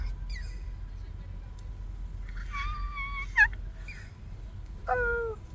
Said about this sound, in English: that was a bird just flying over and cawing